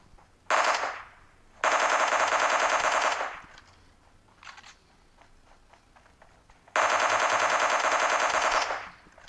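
Automatic gunfire in the mobile game PUBG Mobile, heard as three loud, sustained bursts separated by quieter gaps, with a fainter short burst between the second and third.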